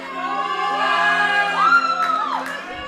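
At a powerlifting championship meet, a crowd cheers and whoops for a female lifter from Alberta during her attempt, a sustained swell of voices with a rising whoop near the end.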